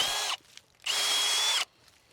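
A Milwaukee M18 Fuel Gen3 impact driver on setting 1 drives a fastener straight through in two loud, close bursts, a short one and then a longer one, with a brief pause between.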